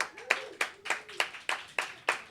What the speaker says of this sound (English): We're laying a red carpet of applause